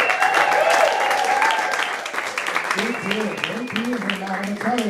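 Audience applause at a comedy improv show in the Arcade Theater, a dense wash of clapping from a packed crowd while a host's voice carries over it.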